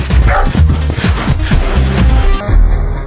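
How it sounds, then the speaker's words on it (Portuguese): A dog barks in a quick string of loud, close yelps and woofs, several sharp barks in rapid succession at a noisy party, with a brief whimpering tone near the end. "Cala a boca, cachorro!"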